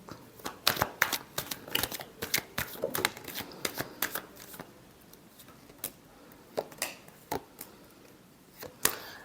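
Tarot cards are shuffled by hand in close, crisp bursts of riffling and slapping, with repeated irregular clusters of sharp snaps spread over several seconds and no talking.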